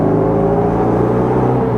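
A Bugeye car engine revs steadily at around 4,000 rpm while shifting into second gear, a loud, close, continuous droning growl with a rough, even pulse.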